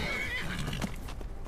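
A horse in Skyrim whinnies with a high, wavering neigh, followed by a few soft hoof clops over steady background noise.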